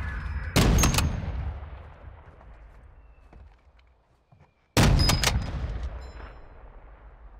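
Two loud bursts of gunfire from the video game Modern Warfare 2, each an abrupt sharp blast trailing into a long decaying rumble, separated by a few quieter seconds.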